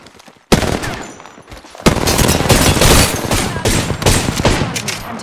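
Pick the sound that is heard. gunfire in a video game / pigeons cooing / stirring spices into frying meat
gunfire in a video game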